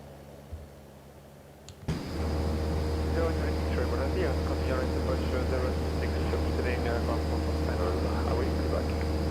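A Cessna 172 engine in the X-Plane 11 flight simulator cuts in abruptly after two quiet seconds, then holds as a steady, loud, low piston drone, with a voice talking over it.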